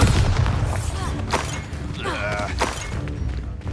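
Bombarda blasting-spell explosions from Hogwarts Legacy boom and shatter in a chaotic sequence of loud thumps and crackling bursts, mixed with voices and combat noise.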